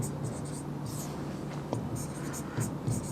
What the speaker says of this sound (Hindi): एक बार फिर से लिख रहा हूँ, कन्हैया लाल